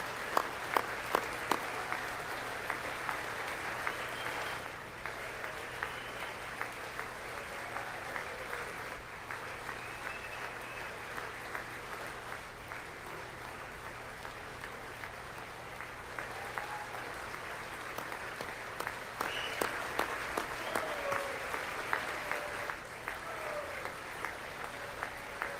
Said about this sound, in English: Both sides are cheering for that guy.